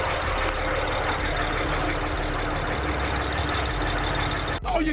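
A Toyota Supra with a bad injector runs rough in a steady, dense engine drone with an uneven, stumbling undertone, loud and close throughout, cutting briefly near the end.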